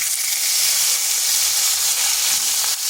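Sliced onion with whole cumin frying in a pan for a kakrol dish, a steady, close hiss and sizzle that runs unbroken without a pause.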